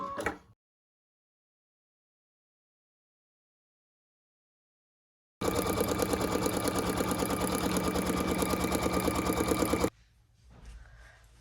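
After a long silence, an embroidery machine stitches a large rectangular placement stitch on stabilizer for a zipper purse, producing a rapid, even mechanical rattle for about four seconds before stopping.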